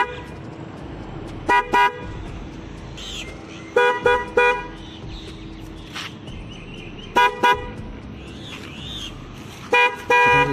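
Trumpet horn fitted to a TVS Jupiter ZX BS6 scooter on a road, sounding in four loud two-tone bursts spaced a couple of seconds apart over light traffic background.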